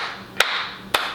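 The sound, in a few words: man clapping for himself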